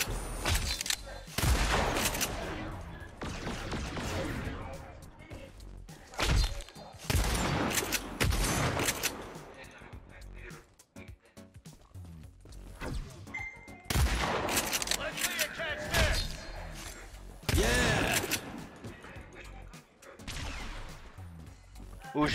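Bursts of gunfire in the Agents of Mayhem game come in loud, repeated volleys separated by short lulls, with someone talking over parts of the action.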